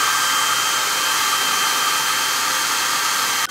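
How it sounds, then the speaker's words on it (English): A hair dryer blows steadily and loudly at close range, a continuous broadband whoosh with a faint whine that holds for several seconds before cutting off abruptly. "It's a blow dryer."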